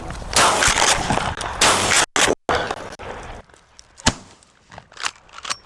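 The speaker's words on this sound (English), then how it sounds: "I've got to shoot higher with this gun" Shotgun blasts during a dove hunt in the field: loud, sharp reports with rustling between them, followed by quieter movement and scattered knocks.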